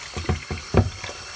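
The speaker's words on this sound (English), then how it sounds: "if you're using the faucet, you just put on the hot as high as it can." Hot water runs from a faucet set to its hottest, splashing and gurgling in uneven bursts as the stream fills a container, close and moderately loud with no voices.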